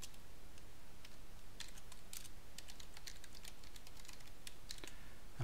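Fingers type code on a computer keyboard in a steady stream of light, quiet key clicks with a few brief pauses, close up and with no voices.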